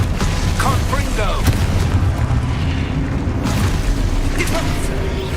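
Confringo fire-blast spell cast in a Harry Potter video game, heavy booming bursts over a constant dense rumble of in-game battle noise, with a voice now and then.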